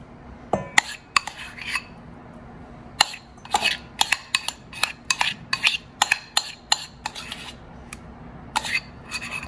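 Spoon scraping and clinking against a bowl while mixing avocado brownie batter with cocoa powder and maple syrup, a string of sharp irregular knocks and scrapes, close and fairly loud with no talk.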